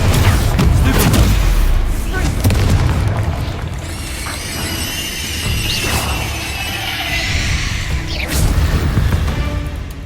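Hogwarts Legacy combat with Repulsor, Glacius and Confringo spells, a rapid barrage of heavy booms and crashing blasts up front, then shimmering icy tones and further explosive bursts over rumbling game music, with shouted voices throughout.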